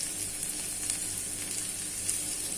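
Onion and crushed garlic frying in a pan for veg noodles, giving a steady, close hiss and crackle that carries evenly throughout with no talking.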